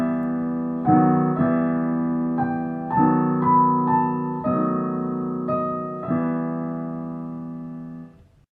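Block chords harmonizing a melody in E harmonic minor, sustained harmonic tones changing roughly every second in a steady progression, played alone at moderate volume and fading out at the end.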